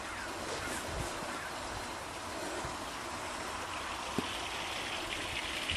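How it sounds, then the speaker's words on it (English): Spring water flows around the base of a big spruce tree, a steady close babbling stream with small trickles and gurgles, continuous and unbroken, with no voices. "right now there's a lot of water, so it's flowing that way and around this big spruce tree"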